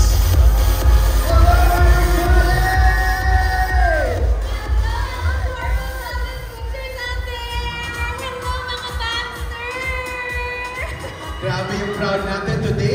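A large crowd at an outdoor wellness fest cheers and shouts continuously with high-pitched voices and whoops, while announcers talk over the noise.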